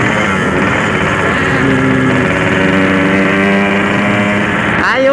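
A Yamaha RX-King motorcycle engine runs steadily close by, a rough continuous drone with a rising rev near the end.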